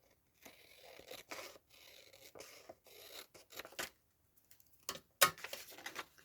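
Scissors snipping through paper for a Halloween craft journal, a series of short, crisp cuts and rasps up close, irregular with brief pauses between strokes, fairly quiet with no talking.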